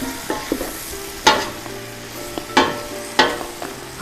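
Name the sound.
stirring chicken soup with a big spoon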